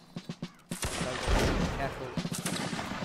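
Musket volley fire in the Napoleonic battle game Mount and Blade Napoleonic Wars, a string of close, loud shots merging into a rolling fusillade, with scattered single shots before and after.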